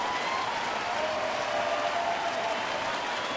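At a Kansas City at Detroit baseball game, the stadium crowd applauds and cheers in a continuous even roar, fairly distant and steady throughout, with a faint whistle or tone drifting through.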